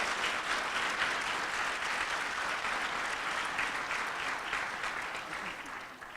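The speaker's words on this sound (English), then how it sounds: "Let's give them another big round of applause" Steady, dense applause from a crowd at a student recognition breakfast, loud and continuous for the whole stretch with slight fading near the end and no clear voices.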